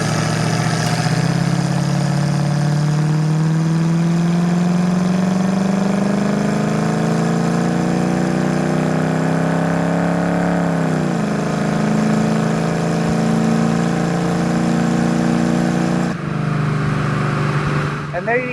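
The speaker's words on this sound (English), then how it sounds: "This is a 1968 Ford Mustang Coupe, 302, automatic, AC, EFI, red on red." A 1968 Ford Mustang Coupe with a 302 EFI V8 and automatic transmission runs on a drive, its engine note climbing and settling through a steady hum, with someone talking over it throughout.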